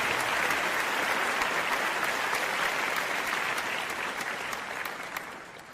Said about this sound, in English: You got applause for that one.